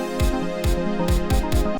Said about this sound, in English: all these sounds you can hear are coming from the synth